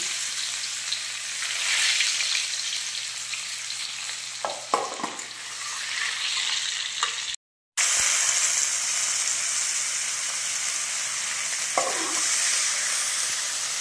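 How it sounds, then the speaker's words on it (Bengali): Chopped garlic fries in hot white oil in a wok with a loud, continuous crackling sizzle, a few stirring knocks, and a brief cut to silence midway. "কড়াতে সাদা তেল দিয়েছি, তার উপর দিয়ে দিলাম কুচনো রসুন।"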